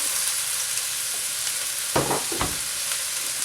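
Celery and bok choy hit a hot frying pan beside tender broccoli: a constant background sizzle briefly flares into two louder bursts of hissing as the vegetables land and are stirred.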